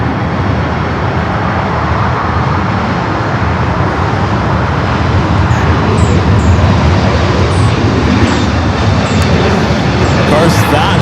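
A jet lands on runway 24 right at LAX, its loud, continuous roar and rumble filling the air steadily, with faint higher chirps and air traffic chatter in the background.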